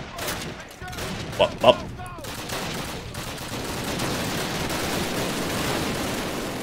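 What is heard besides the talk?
gunfire in the video game Call of Duty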